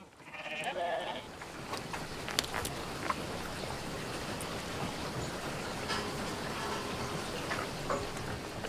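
Sheep bleating on an Irish farm, a few calls rising over steady rain-like hiss and rumbling ambience, moderately distant and fairly faint.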